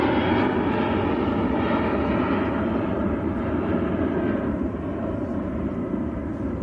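A departing airliner rotates on takeoff at Manchester Airport, a loud, sustained engine roar that slowly eases as it climbs away, with no voices.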